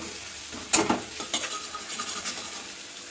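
Long-cut green chillies with ground garlic and ginger hitting hot oil in a pan for a rohu fish curry, a sharp sizzle burst followed by a few scraping stirs and a soft ongoing fry.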